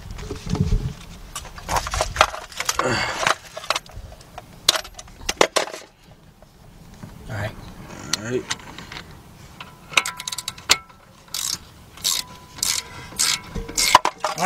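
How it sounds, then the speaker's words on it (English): Close mechanical clicking and ratcheting from a 3/8 drive ratchet tightening wheel hub bolts on a 2008 Audi A6 Quattro 3.2, in irregular bursts with brief pauses and some speech. "what kind of ratchet you got? This is a 3/8 drive, right?"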